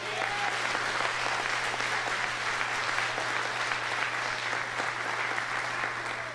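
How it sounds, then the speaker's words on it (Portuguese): A church congregation claps together in sustained, dense applause that stays loud and even throughout, with a faint murmur of voices underneath. "dá uma salva de palmas para Ele"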